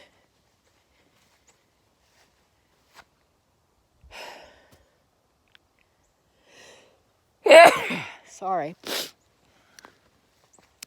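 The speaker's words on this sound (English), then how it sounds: "Something gets tickled and then I sneeze a couple times and it's over with" Near silence, then a sudden loud sneeze up close, followed by a brief spoken word and a sniff.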